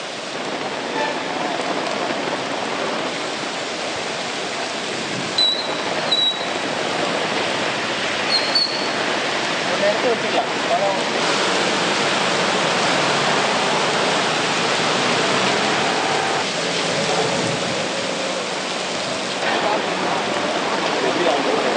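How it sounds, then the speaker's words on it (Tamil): Heavy rain driven by strong wind pours over flooded Chennai streets, an unbroken roaring wash that stays loud and even throughout. "பலத்த காற்றுடன் பெய்த மழை காரணமாக சென்னை சாலைகள் முழுவதும் வெள்ளக்காடாய் காட்சியளித்தன"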